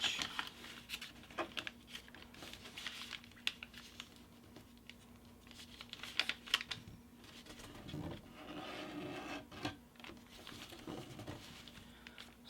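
Paper folded by hand into an origami baby dragon: soft crinkles, taps and rubbing creases come and go in a quiet, close-up room with a faint steady hum beneath.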